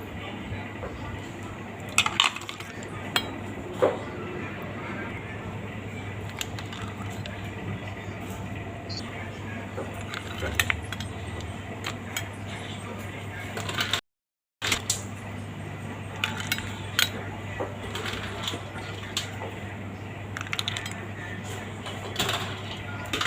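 Snail curry with chaphlu leaves and toasted rice is ladled into a bowl, with scattered clinks of dishes and utensils over a low hum and a brief gap of silence partway through.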